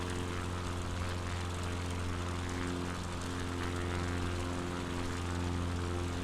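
Steady drone of a propeller aircraft engine in MS Flight Simulator, a loud continuous hum with strong low tonal harmonics, cockpit perspective, constant throughout.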